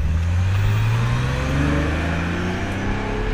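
A 2001 Chevrolet S10 single cab pickup pulling away, its engine note rising steadily as it accelerates, heard from inside at close range and loud throughout, with no talking.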